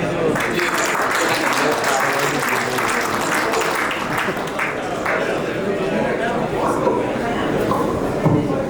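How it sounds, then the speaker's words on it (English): Audience applause fills a King Travel 25th anniversary celebration, a dense, steady wash of clapping from a large crowd with a murmur of chatter underneath, holding loud and even throughout. "I would request you to please put your hands together to applaud and appreciate the hard work that has been done by our team"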